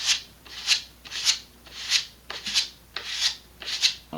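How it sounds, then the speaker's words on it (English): A sanding block rasps back and forth over the small edge of a model rocket fin in seven even strokes, close up, with no voices. "sanding block, and I'm just going to go around"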